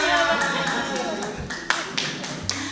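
A group clapping for themselves during a positive-culture school session, a steady burst of hand claps running throughout with a few sharper individual claps standing out near the end.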